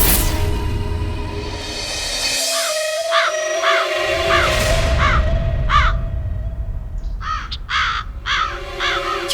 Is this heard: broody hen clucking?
no